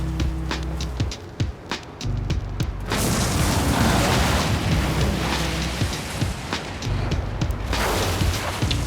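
Buildings crumble as smokestack factories are bulldozed along an industrial zone in a city-building game, giving a loud, continuous rumbling crash with dense crackling debris that swells and lingers for several seconds, following a few lighter clicks at the start.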